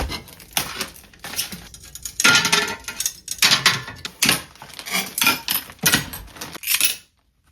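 Glass mosaic tiles being cut into pieces inside a bag, giving repeated sharp clinking snaps and rattling shards in irregular bursts, close and fairly loud, with no talking.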